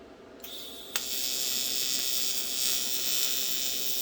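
An AC TIG welder arcs on aluminum for a pipe adapter, a steady buzzing hiss that switches on abruptly and holds level after a sharp click, with no talking.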